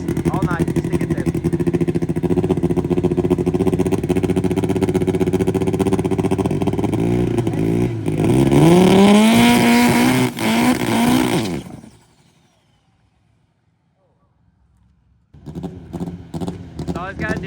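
A race vehicle launches off the line at the drag strip, a loud sustained engine note climbing sharply in pitch before cutting off abruptly into near silence; talk runs over it.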